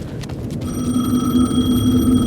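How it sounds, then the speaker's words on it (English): A telephone rings in the video game Alan Wake 2, a bright electronic trill that starts after a few soft knocks and holds steadily, loud and close, with no talk over it. "The phone again."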